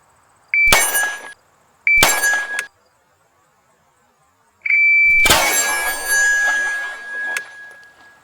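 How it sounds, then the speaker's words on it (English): An electronic shot timer beeps three times on a pistol range, each short tone instantly followed by a sharp metallic clang, the last burst longer with ringing tails and a lingering steady tone. "Once the timer goes off, pull the trigger as fast as possible to the rear"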